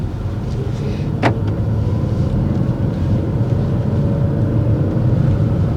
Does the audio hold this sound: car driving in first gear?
yes